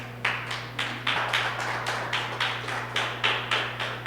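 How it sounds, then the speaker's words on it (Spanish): A congregation claps in a steady, evenly spaced rhythm during a church service, each beat loud and sharp over a constant low electrical hum, with no voices on top. "Dele una ofrenda de aplausos al Señor"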